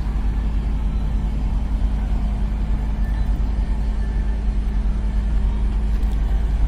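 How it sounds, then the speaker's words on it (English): At a full-size truck stop, heavy trucks idle in a constant low rumble, a steady engine drone at moderate distance with no break. "So this is a full-blown truck stop"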